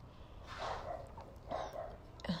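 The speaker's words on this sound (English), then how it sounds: "don't mind my dog" A dog gives two short, muffled barks in a quiet kitchen, somewhat distant and soft, with a little background noise.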